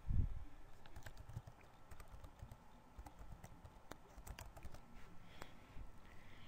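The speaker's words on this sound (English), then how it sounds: "you can just type in your website URL" Typing on a computer keyboard: a quick, irregular run of light key taps, close and fairly quiet, continuing for several seconds with a faint thump at the start.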